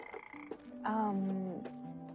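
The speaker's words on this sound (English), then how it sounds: "I got a frog from the pond to cheer him up." A frog brought in from a pond gives a loud, close croak, a single drawn-out call over about a second with shorter throaty sounds around it.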